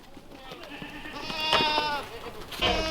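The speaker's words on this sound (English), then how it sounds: "Look out, little goat." A goat bleats in a farm goat pen, several quavering, drawn-out calls close by, growing louder toward the end, with no talk over them.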